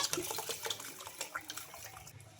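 Water splashes and pours steadily into a container of soaked lentils, a close, continuous wet rushing with small bubbling bursts.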